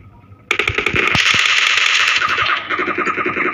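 Rapid automatic gunfire in the BGMI battle game, a sudden burst of closely spaced loud shots that runs continuously for about two seconds and then continues in a choppier, slightly lighter rattle.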